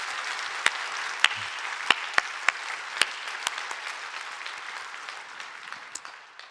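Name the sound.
church congregation applause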